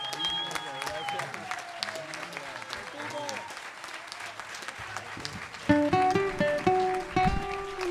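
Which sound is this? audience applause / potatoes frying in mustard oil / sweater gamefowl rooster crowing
audience applause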